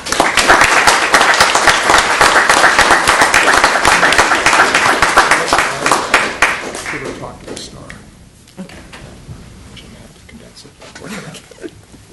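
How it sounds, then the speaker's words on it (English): An audience breaks into loud, sustained applause at a civic meeting's proclamation ceremony, dense clapping for several seconds that thins out and fades to scattered claps. "I hope you'll join me in giving these guys a clap."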